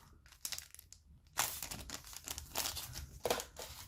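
A foil wrapper of a trading card booster pack crinkles and tears close up, quiet irregular rustling with a few sharper crackling bursts.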